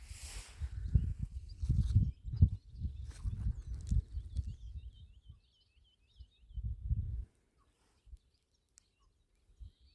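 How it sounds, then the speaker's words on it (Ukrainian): Faint, high chirps from small birds singing over a winter wheat field in Kharkiv region, heard at a distance beneath low rumbling wind and handling noise. "Пташки співають."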